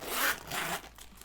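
A zipper on the case of a knitting needle set being opened in two quick, close rasping pulls, the second slightly shorter, then trailing off.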